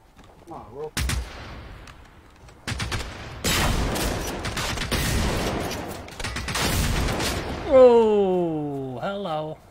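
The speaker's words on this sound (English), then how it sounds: "Something was shooting at me" Gunfire in Generation Zero, with several loud bursts and single shots coming in waves, and a distorted, warbling voice near the end.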